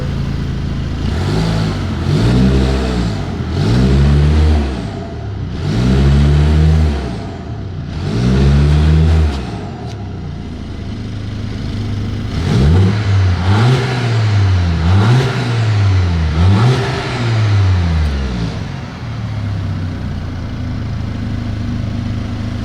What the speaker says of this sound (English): that's in sport mode, so it kind of got a little bit louder. I'll rev it.